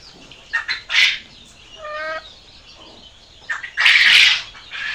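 Chickens in a poultry yard with laying hens give a few scattered clucks and squawks, close by and fairly loud, with short gaps of quiet between the calls.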